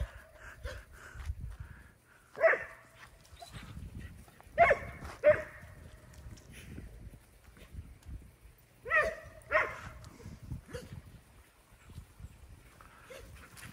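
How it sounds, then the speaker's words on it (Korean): Dogs running around outdoors on a very cold December morning, barking in short bursts of two or three yaps separated by quieter stretches, moderately close, with a faint background murmur. "물구서 짖니, 멍구야?"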